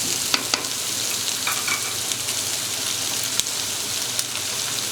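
Large carrot pieces and rice frying for Chinese-style rice biryani, a dense constant sizzle like light rain with a few spoon clinks and stirring scrapes over it, close up.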